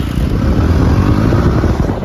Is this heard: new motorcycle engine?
yes